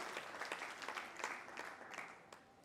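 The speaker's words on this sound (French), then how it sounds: "vous pouvez vous applaudir très fort" An audience of men and women at a gathering in Burkina Faso applauds itself, a steady wash of clapping with a few sharper claps standing out, faint and distant, without talk.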